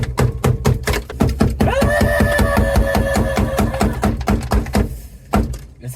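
Sound deadening frozen with dry ice inside a 1985 Nissan 300ZX Turbo is struck repeatedly, producing loud, rapid, close knocks and thuds in a steady rhythm, with a brief tonal ring partway through.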